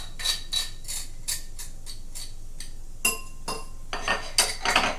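Fresh ginger is worked into a bowl with a utensil, producing a series of light clinks and scraping taps against the bowl in an uneven rhythm, close and fairly clear.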